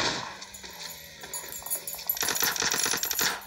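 Gunfire in the PUBG battle royale video game, with scattered faint clicks that give way to a louder rapid burst of automatic shots in the second half.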